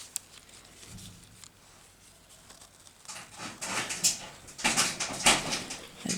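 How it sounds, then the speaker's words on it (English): A female dog whimpers and fidgets nearby, with thin whines over soft pattering and rustling that grow busier and louder toward the end. No one speaks. "The dog's having a bit of a time there"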